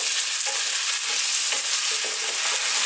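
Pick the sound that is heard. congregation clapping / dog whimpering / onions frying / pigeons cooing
onions frying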